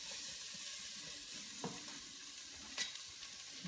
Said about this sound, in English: I hear my stuff over here sizzling